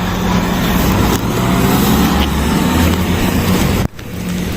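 A marked police car pulling out at the gate of Luton Police Station, a close, loud engine rumble holding steady, then a sudden brief dip near the end.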